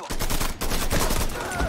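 Rapid gunfire in the Mafia 3: Definitive Edition video game, a loud, dense burst of repeated shots with a brief gap midway, close and dominating.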